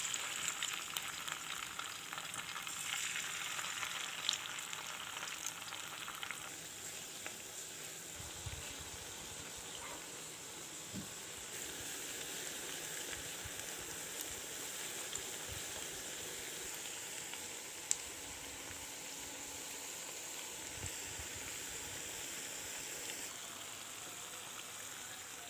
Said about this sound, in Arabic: الزيت عندنا على النار بمعلقة كده، وننزل في الزيت